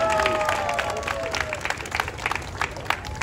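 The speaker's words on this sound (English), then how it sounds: "So can you guys please give him a round of applause?" Applause at an outdoor tree lighting ceremony, a crowd clapping and cheering that starts full and thins into scattered individual claps, with voices mixed in near the start.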